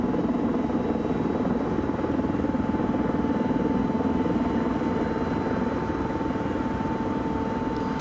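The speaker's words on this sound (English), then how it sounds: "the Mi-24s are just flying through with impunity here" Mi-24 attack helicopters in a large multiplayer military video game flying overhead, a steady loud rotor drone with a constant hum held evenly throughout, no voices.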